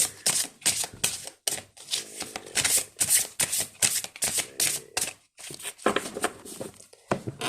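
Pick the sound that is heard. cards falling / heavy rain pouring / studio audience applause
cards falling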